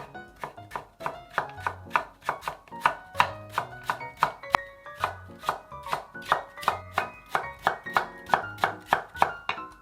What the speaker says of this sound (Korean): 무 나물할 무는 채를 썰어서 준비할게요